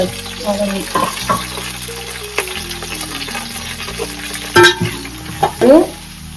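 Onions sizzle and fry in a pan while a spoon stirs and scrapes them, with clanks of utensil against the pan and steady background sizzling.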